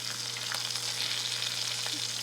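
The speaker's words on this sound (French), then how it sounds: "Notre foie est encore rose un petit peu, rôti." Venison liver roasts in a pan with a steady close sizzle and a few soft stirring clicks, no talking over it.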